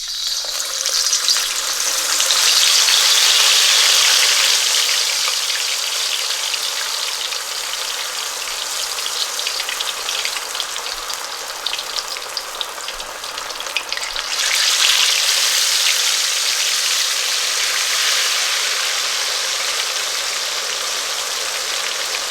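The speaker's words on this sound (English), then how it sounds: "Fish is getting fried nicely." Fish deep-fries in a wok of hot oil at a Lahore food street stall, a loud continuous sizzle and crackle that swells and eases slightly and runs alone without talk.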